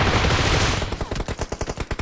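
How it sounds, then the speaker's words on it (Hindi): Gunfire in the BGMI battle royale mobile game: a dense roar of shots gives way to rapid, evenly spaced automatic bursts, loud and close. "गोली चलाई हल्की सी, दूर से भी कोई चला रहा है"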